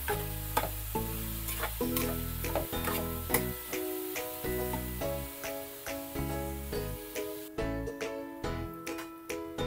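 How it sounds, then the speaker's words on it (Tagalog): Beef with a little fat sautéing in a pan for beef goto, a steady sizzle with repeated scraping stir strokes of a large ladle, close and continuous with no talking. "Nigisa lang muna natin yan, no?"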